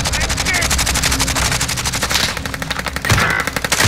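Sustained automatic gunfire in Call of Duty: Modern Warfare, a loud rapid stream of shots with dense overlapping bursts and a brief pause near the end.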